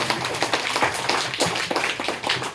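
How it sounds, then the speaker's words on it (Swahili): Church congregation clapping for Jesus during a sermon, a dense ongoing patter of many hands clapping with uneven rhythm, close and fairly loud with no talk. "Pigie Yesu makofi."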